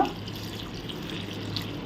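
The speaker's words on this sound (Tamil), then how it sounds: "கொஞ்சம் ஒரு டம்ளர் அளவு தண்ணி விடுங்க போதும்" Water flows steadily into a cooking pot of boiling curry leaves, green chili and onion for a cabbage, carrot and potato milk curry, a soft continuous splashing pour that is close and fairly quiet.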